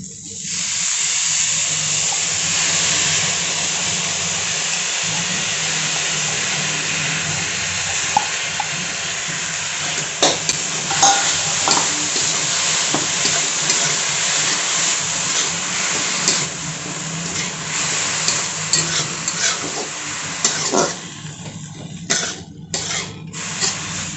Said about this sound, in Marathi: हे सर्व आपण कांद्यामध्ये परतून घेऊयात आणि धुतलेले सुकट आहे ना, याच्यात टाकून घेऊ।